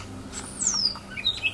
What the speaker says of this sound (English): See, that's a pretty smart bird right there.